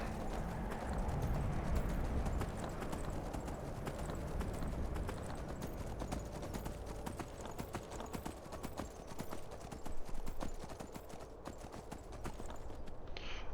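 Horse hooves clip-clop steadily in Skyrim as the mount is ridden, a continuous close rhythmic trotting over game ambience with occasional whinny-like sounds, no speech.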